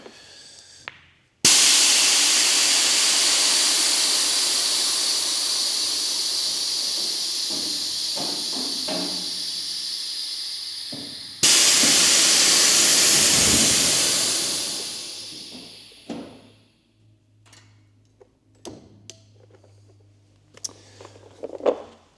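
Air ride suspension on a Ford F100 dumping air as the truck lowers: a loud, steady hiss bursts out for about ten seconds, cuts, then a second long hiss fades away, followed by faint clicks and settling noises.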